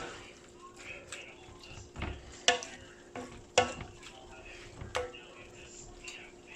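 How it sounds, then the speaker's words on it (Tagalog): Pork dinuguan fries on high heat in a pan while being stirred, giving a low constant sizzle broken by several sharp scrapes and knocks of the spoon at irregular intervals. "And then hahaluin lagi, i-check para hindi mag-dry."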